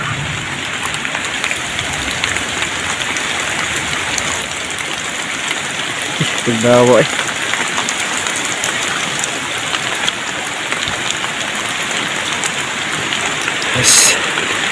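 Steady rain falls hard and close around a riverside fishing spot, a constant hiss that holds through the whole clip, with a brief word of speech and a couple of short knocks.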